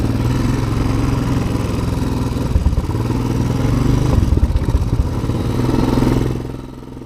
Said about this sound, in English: you left your engine running